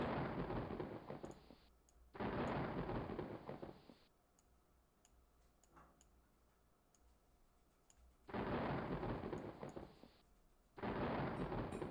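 Lightning strikes with thunder in the Shadowgate game on Mac, heard as loud bursts of noisy crackling that cut in and out abruptly, with faint clicks and quiet gaps in between.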